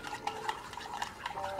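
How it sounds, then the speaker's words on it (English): A chopstick stirs hot espresso in a cup to melt chocolate for a raspberry mocha, giving a soft, steady swishing with faint repeated clinks against the cup, close and quiet. "I just take a chopstick and go ahead and just stir it up and help with the melt process"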